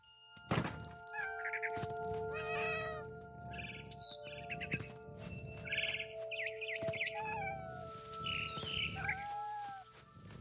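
A cat meows repeatedly over a busy soundscape from the game What Remains of Edith Finch, with thumps and chimes, the meows fairly clear against steady background tones.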